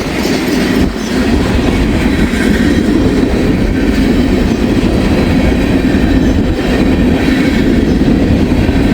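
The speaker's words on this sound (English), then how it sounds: "It's a heavy train." Heavy coal train rolling past close by, a loud continuous rumble with steady clickety-clack of wagon wheels over the rails and a low vibrating roar as it gathers speed.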